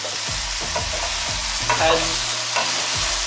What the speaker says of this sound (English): So once your sausages are nice and hot inside the pan